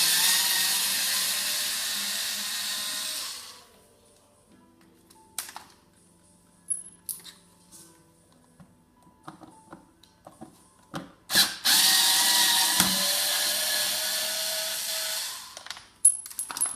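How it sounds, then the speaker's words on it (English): A power screwdriver whirs in bursts while removing the recliner handle mounting screws on a sofa, with two long whining runs separated by quiet clicks, taps and small metallic rattles up close. "Just remove your mounting screws."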